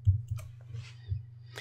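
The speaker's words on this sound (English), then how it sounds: "I'm going to use the keyboard shortcut of Command," A few soft, separate key clicks as a keyboard shortcut is pressed on a Mac, close and quiet with no talking.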